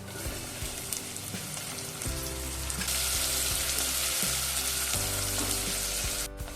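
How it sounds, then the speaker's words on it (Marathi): Chopped onion frying in oil with cumin in a pan for a kantola and val birda vegetable dish, a steady loud sizzle throughout with a few stirring scrapes and louder bursts partway as the onion goes in. "आपण टाकलं तेल भाजीमध्ये, जिरं, नंतर हा कांदा कापलाय तो टाकूया"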